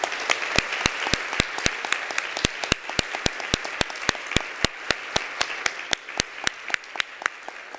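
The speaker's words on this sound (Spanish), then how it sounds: "me gustaría pedirle el último aplauso a nuestros profesores" An audience at an education event in Chile applauds its teachers with steady, evenly spaced claps that ring out sharply and loudly for several seconds.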